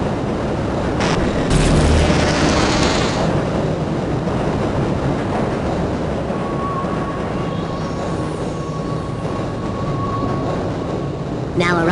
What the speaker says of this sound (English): Do not attempt to open the doors until the train has come to a complete halt at the station platform.